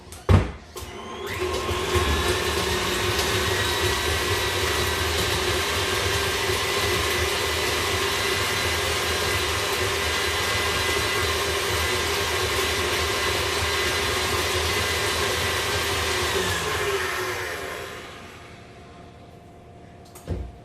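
An electric mixer whirs steadily through butter and mashed banana for banana bread, a loud constant motor drone that holds for about sixteen seconds before spinning down, with no talk over it.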